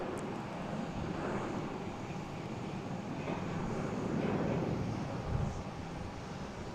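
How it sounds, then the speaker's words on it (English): Lufthansa airliner taxies out along a taxiway at Boston Logan airport, a steady distant jet engine rumble and whine blended with wind noise, slowly swelling slightly louder toward the end. "we got Lufthansa heading out on taxiway Charlie out to 3-3"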